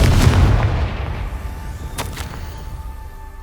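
A Confringo fire spell explodes in Hogwarts Legacy, a heavy booming burst at the start that decays into a rumbling tail, with a couple of faint sharp crackles afterward.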